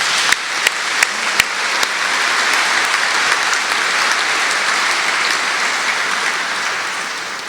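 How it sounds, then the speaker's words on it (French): A church congregation at a Mass opening the 2025 Holy Year gives sustained applause. A few sharp early claps swell into a broad, even wash of clapping. "Alors applaudissez-la à cette personne."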